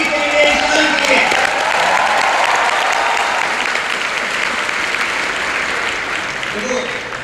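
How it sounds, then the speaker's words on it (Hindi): An audience applauds at an event with loud, sustained clapping from a large crowd. The sound is close and dense and tapers slightly toward the end, with voices mixed in underneath. "एक बार जोरदार तालियां रोहित के लिए,"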